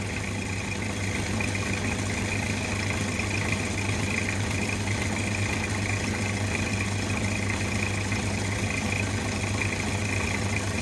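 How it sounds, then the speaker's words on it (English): A good-quality vacuum pump runs during fuel tank cleaning and restoration, producing a continuous, even, fairly loud mechanical drone with a low hum and no change in pace for the whole stretch, with no one talking. "This is quite a fast creating vacuum pump to what you see on YouTube with some of the cheaper pumps"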